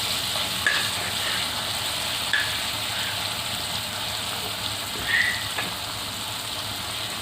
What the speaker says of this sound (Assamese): বিলাহী এইখিনি একেবাৰে গলি যোৱালৈকে আমি এইখিনি লৰাই থাকিম।